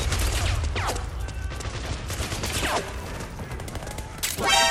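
Gunfire in the video game Metal Gear Solid 4, a chaotic burst of shots and rapid automatic fire over a low rumbling background, with a quick rattling volley near the end and no clear talk.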